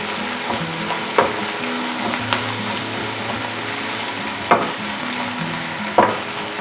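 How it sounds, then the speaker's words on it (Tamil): Onions fry on a medium flame in a pan for chicken masala, giving a steady moderate sizzle with a few sharp clinks and scrapes as they are occasionally stirred, with no one talking. "அடுப்பை மீடியம் ஃப்ளேமில் தான் வச்சு வதக்கி கொடுக்குறேன்."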